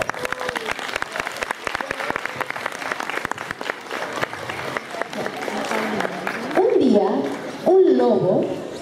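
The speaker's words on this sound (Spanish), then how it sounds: "Un fuerte aplauso." An audience applauds a kindergarten class's school play, with lively, uneven clapping at moderate distance; higher-pitched voices rise over the clapping toward the end.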